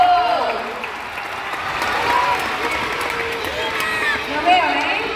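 Audience applause at a live trivia show in Buenos Aires, a steady wash of clapping from a crowd that swells and fades over a few seconds while a voice talks over it.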